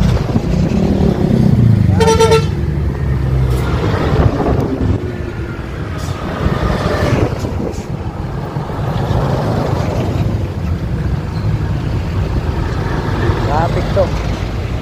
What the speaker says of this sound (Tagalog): Grabing traffic to.